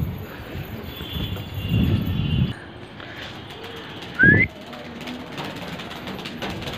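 Pigeons coo and call softly in an outdoor setting, with a short whistle-like chirp and faint background hum.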